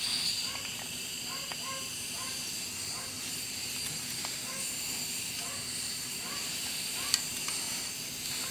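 Compressed nitrogen at about 18 psi flowing through a copper pipe during MAPP gas brazing work makes a steady soft hiss that runs throughout, with faint scattered clicks and one brief sharp tick.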